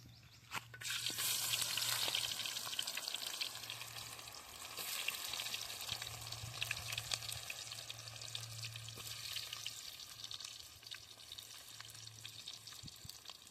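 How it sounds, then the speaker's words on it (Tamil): Onions frying in oil in a pot over an open fire outdoors, a continuous crackling sizzle with stirring scrapes, fairly close, with a low steady hum underneath and no talking. "இது என்ன பொன்னிறமாக அப்படியே எண்ணெயில் வறுக்கணும்."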